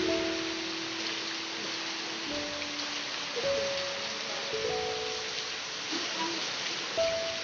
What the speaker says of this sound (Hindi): केते जोर वर्षा होची